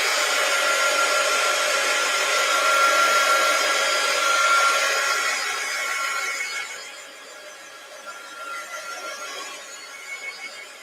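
A hair dryer blows steadily on a colorized photo, a loud broadband whoosh that shifts and eases partway through as the dryer moves, continuing more softly to the end.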